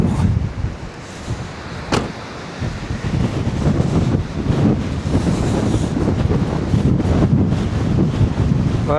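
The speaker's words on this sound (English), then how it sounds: "Whoa, that is windy." Strong gusts buffet the microphone outdoors in wet, windy weather, giving a loud, continuous low rumble with rising and falling surges and a sharp thump near two seconds.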